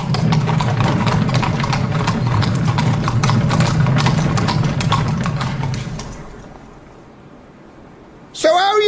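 A horse's hooves clip-clop steadily and close for several seconds, alongside an idling engine, then fade away before a voice cuts in at the end.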